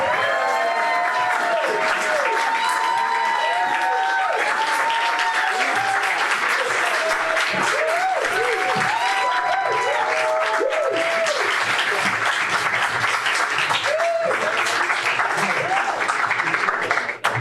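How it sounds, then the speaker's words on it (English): Loud, sustained applause from a concert crowd welcoming the band Phoenix, steady throughout with occasional cheers and whistles rising above the clapping. "Please, round of applause."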